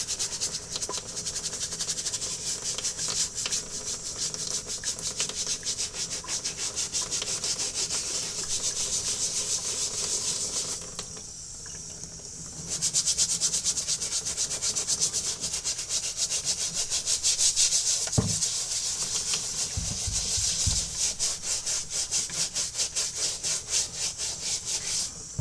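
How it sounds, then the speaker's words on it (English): A soft bristle brush scrubs gray wool Nike Foamposite Pro shoes in steady back-and-forth strokes, a close, dry rasping rub that pauses briefly partway, then resumes, with a few light knocks and no talk. "this brush, it's a very soft bristle brush. It's not real hard, so it's not going to damage a lot of athletic shoes"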